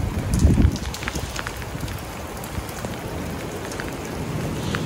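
Steady rain falls and patters on surfaces close by at a condo building on Panay Avenue, Quezon City, with a brief low rumble at the start and a constant wash of drops throughout.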